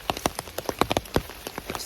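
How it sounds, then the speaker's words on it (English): Rain falling on a hiker along the Appalachian Trail, heard as irregular close drops and patters tapping on a surface over a steady wet hiss, with no talking. "it's raining"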